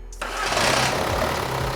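A Ford Ranger truck engine fires up abruptly after a brief silence and settles straight into a loud, rough, steady running rumble close by.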